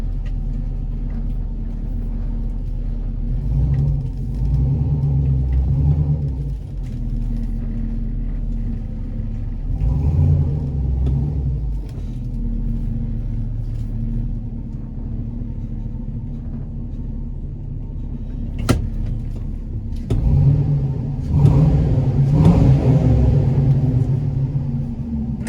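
An LS-swapped Chevrolet C10 truck engine idles with a deep, steady rumble close by, swelling briefly in a few throttle blips and rising louder near the end.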